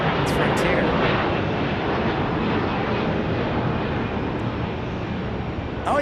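A Frontier Airlines plane landing at Phoenix Sky Harbor airport makes a broad, steady engine roar at a moderate distance, sustained throughout with little change in level.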